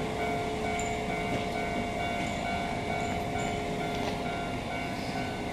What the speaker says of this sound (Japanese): 2番乗り場から鈴川行き急行が発車します。